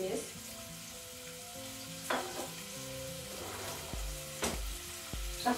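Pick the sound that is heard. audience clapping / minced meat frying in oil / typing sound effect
minced meat frying in oil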